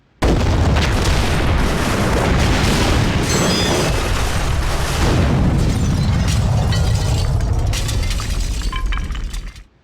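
A critical rocket blowing up in a video game cutscene: a sudden massive blast bursts in at once, followed by a long roaring, debris-filled rumble with shattering crashes that sustains for nearly ten seconds before cutting away.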